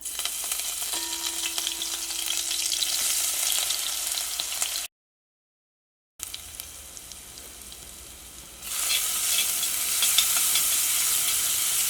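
A paste of ground coriander leaves, ginger, garlic and green chili sizzles steadily in hot oil, a continuous close hiss that drops out briefly midway, then returns and grows brighter, with no talking.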